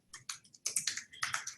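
Quick bursts of keystrokes on a computer keyboard, close and crisp, as a company address is typed in, with irregular clusters of taps and no talking.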